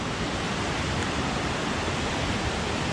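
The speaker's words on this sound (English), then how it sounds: "you can already see the spray of the waterfall." Rocky Brook Falls in Washington roars with a constant, dense broadband rush of falling water, loud and close, unbroken and with no voices.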